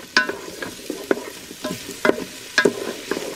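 Onions cooking in a pan at home: several short bursts of stirring and scraping with a soft sizzle underneath, close and fairly quiet, with no talking.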